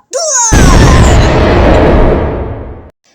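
A loud boom erupts after a short rising whistle, then a broad rumble slowly fades out over a couple of seconds.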